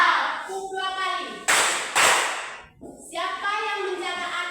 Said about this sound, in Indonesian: Tepuk dua kali.